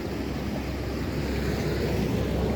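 Rainwater rushes hard over exposed rocks on a hillside, a dense, steady roar with no break, close and loud throughout.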